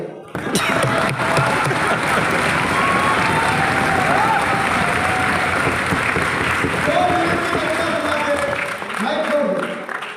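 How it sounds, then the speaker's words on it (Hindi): Sustained, dense applause from a large audience at a national poetry gathering in Vigyan Bhawan, filling the whole stretch at close, loud level with voices and crowd murmur mixed in. "कविता खत्म होगी ताली दो"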